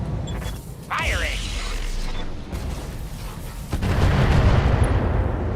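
Mech weapons firing in the RogueTech BattleTech game, a heavy mechanical launch followed by a louder rumbling blast, with game voices around it.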